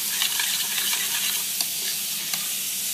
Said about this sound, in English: we're trying to get a little bit of sealing of that meat and a little bit of colour